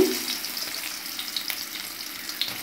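Sliced onion and garlic frying in hot oil in a pan, a steady bright sizzle with crackling pops running throughout, close and alone with no voices.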